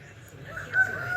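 Chickens wander loose in a backyard vegetable garden, where a rooster crows faintly at a distance over quiet outdoor background noise.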